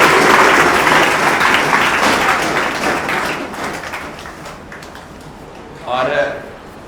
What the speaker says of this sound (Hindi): तो सबसे पहले आप तालियां बजाएंगे।